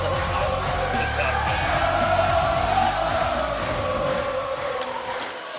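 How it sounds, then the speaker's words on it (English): A loud, packed bowling tournament crowd at the PBA King of the Lanes Empress Edition cheers, whoops and yells continuously, a dense roar of voices that holds steady throughout. "Listen to this crowd."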